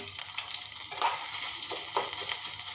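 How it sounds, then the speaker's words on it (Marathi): Garlic paste and grated fresh coconut fry in oil for a cluster-bean curry, giving a steady close sizzle with a few soft stirring scrapes over it and no talking. "हे सर्व असं तेल सुटेपर्यंत आपण परतणार आहोत"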